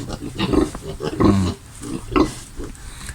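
Pigs in a backyard pen at a small family pig-raising farm grunt in several short bursts, close and fairly loud, with people talking nearby throughout.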